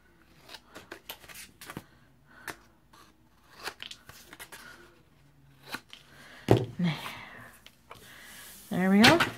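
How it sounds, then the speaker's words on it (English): Corners being trimmed off craft paper or cardstock with scissors while making a mini album in a box: several short, close snips and crisp cuts, with paper rustling and handling between them and a louder crinkle near the end. "Then I'm going to trim off my corners here."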